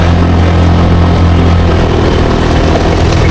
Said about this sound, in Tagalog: yung jeep na padaan-daan ng pababa